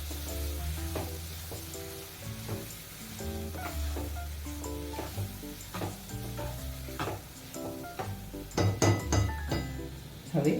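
Onions cooking with turmeric and salt on a medium-low flame for baingan ka bharta, giving a steady sizzle under repeated stirring clinks of a utensil against the pan, with a short clatter near the end.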